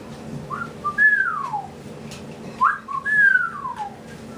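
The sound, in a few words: whistled imitation of whippoorwill call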